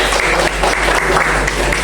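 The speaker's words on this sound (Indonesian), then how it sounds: "Tepuk tangan untuk si Aura." Students in a classroom clap for a classmate, a dense, steady burst of applause from a small group heard close and fairly loud for a couple of seconds.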